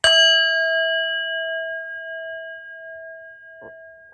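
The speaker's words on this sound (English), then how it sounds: "I'll ring the bell after a short amount of time," A single bell is struck once, ringing out clearly with a pure tone that slowly fades over several seconds, with a faint rustle near the end.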